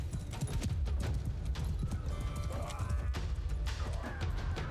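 Many cavalry horses gallop together in a video game battle, a dense, rapid drumming of hooves, with an occasional whinny rising over the rumbling charge.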